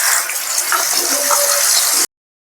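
A paste of cashew, tomato, green chili and ginger hits a hot pan with a loud, steady sizzle up close that fills the moment, then cuts off abruptly.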